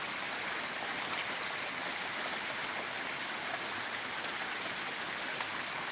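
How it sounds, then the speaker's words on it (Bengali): Heavy rain pours steadily during a flooding downpour around a house, a dense, even hiss of falling water with no break and no voices. "এখনও প্রচণ্ড বৃষ্টি হচ্ছে বৃষ্টি থামছে না"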